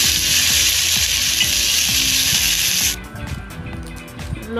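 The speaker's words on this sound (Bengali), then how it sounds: "আলু বেগুনটা অল্প ভেজে নেব।" Potato and eggplant pieces fry in hot oil for an eggplant-tomato puti fish curry, a loud dense sizzle that cuts off abruptly partway, leaving softer crackles and low scraping stirs.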